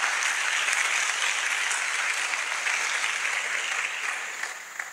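An audience applauds steadily, a dense wash of clapping that holds evenly and then eases slightly toward the end, with no voices over it.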